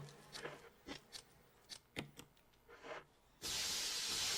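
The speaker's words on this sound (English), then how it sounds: "Spray the insecticide in there." Insecticide spray hisses in the Capcom video game The Haunted Mansion. After a few brief clicks and scrapes, a loud, steady spray hiss starts abruptly and holds to the end.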